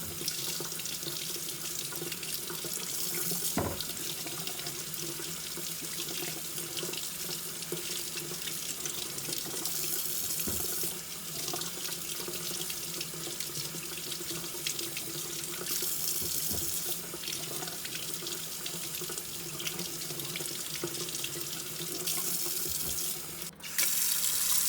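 Potatoes being washed under a running warm kitchen tap, a steady close hiss of flowing water into the sink with occasional small knocks and splashes.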